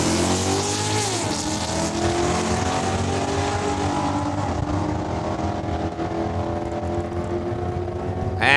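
A 2008 Corvette drag racing at Saskatchewan International Raceway: a loud, sustained engine roar rising through the gears, with a shift near the start and another midway, and no talk over it.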